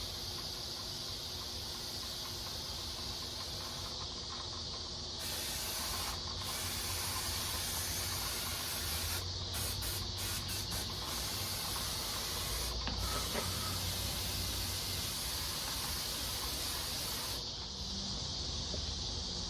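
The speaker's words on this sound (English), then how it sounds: "Let me just spray this all in there too" A steady, loud aerosol spray hisses almost continuously into the engine bay of a 1989 Ford Mustang GT for a long stretch, with brief pauses and bursts where the nozzle is released and pressed again.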